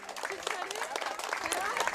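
After the European Lacrosse Challenge final between Poland and Slovakia, fans and players applaud, steady crowd clapping with some cheering and a voice speaking over it.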